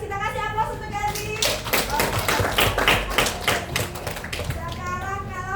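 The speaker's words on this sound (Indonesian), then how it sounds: "Kita kasih aplaus untuk Gazi" A classroom of students claps for a classmate, a burst of quick, crowded applause lasting a few seconds and then fading as children's voices carry on around it.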